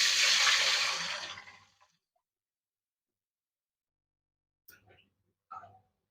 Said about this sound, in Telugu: ఇప్పుడు నీళ్లు వేసుకుందాం.